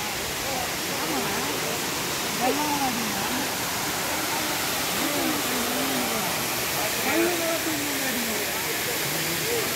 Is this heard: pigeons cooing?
no